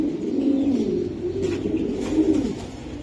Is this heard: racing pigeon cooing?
yes